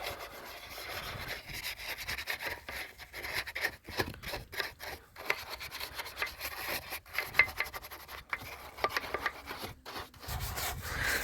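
A stiff-bristled brush scrubs car wheel rims in a workshop with quick, uneven back-and-forth strokes, a dry close-up rasping with short pauses between bursts.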